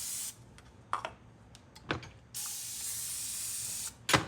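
A can of cooking spray hisses onto a pan in a home kitchen for a one-pan beef and vegetable meal, with a long steady burst near the mic between short spurts and clicks, and no talk.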